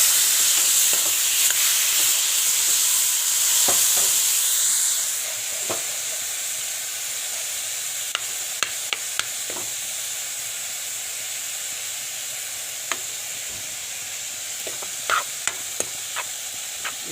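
Chopped tomatoes and turmeric hit hot oil in a pan with a loud steamy hiss that fades after a few seconds into a softer sizzle, broken by occasional sharp clicks of a utensil against the pan.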